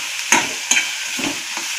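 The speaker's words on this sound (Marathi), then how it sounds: "आणि गॅस मध्यम ठेवून हे चांगलं भाजून घ्यायचं, हलवून हलवून." Boiled potatoes and eggs are stirred and roasted in a pan over medium heat, with coriander and salt added. A few quick scraping strokes sound close by over a soft sizzle.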